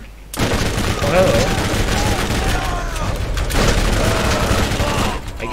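Rapid gunfire in the video game Borderlands, loud continuous bursts of automatic weapon shots with booming impacts, a voice speaking briefly over the shooting.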